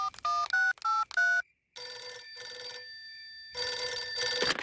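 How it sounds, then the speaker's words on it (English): Cartoon telephone ringing in a children's animated show: several short electronic ring bursts with brief pauses between them, followed by longer sustained tonal rings, clear and prominent with no talking. "we'd better phone the king."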